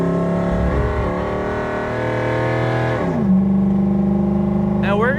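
V8-swapped Toyota Hilux with its front valence removed, engine climbing a hill under load, rising in pitch through a gear, then dropping and settling into a steady drone, close and loud.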